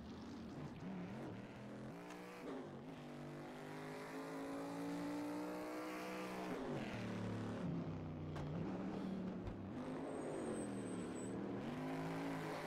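Race car engine in the sim game rFactor 2, loud and close, revving up and down through gear changes with steady harmonic whine over about thirteen seconds, no talking.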